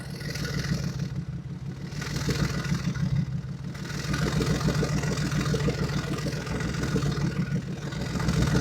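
An idling car engine with exhaust resonators installed holds a steady, fairly quiet low throb, with a slight rise and fall in level across several seconds and no speech.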